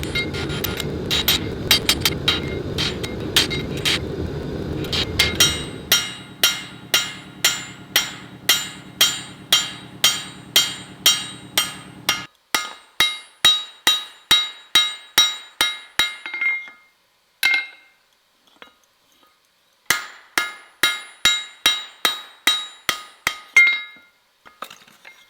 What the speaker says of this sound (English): This is the only spot on the axe that I come in with a bigger hammer